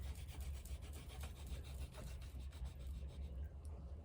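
Oil pastel rubbed across paper with slow, steady pressure, giving a continuous soft rasping scrape that stays fairly faint against a low background rumble, with no speech.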